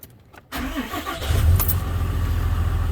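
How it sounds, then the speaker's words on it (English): A truck engine cranks and catches after a moment of quiet, then settles into a loud, close, rumbling idle that holds steady to the end. "truck is on."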